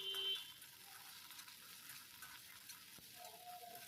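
Onion and ginger-garlic paste frying in a pan, a faint, steady low sizzle with soft stirring scrapes and a brief clink near the end, with no speech.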